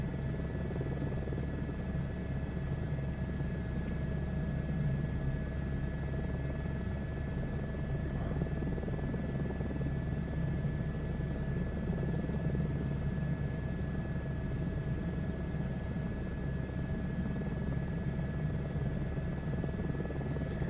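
A helicopter in a video game flies at steady cruising speed, its rotor and engine making a constant droning whir that holds unbroken and fairly loud throughout, with no talk.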